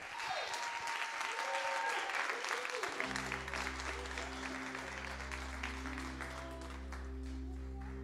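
A church congregation applauding after a sermon, sustained dense clapping from a large crowd, first alone and then joined by organ chords and a voice speaking over it.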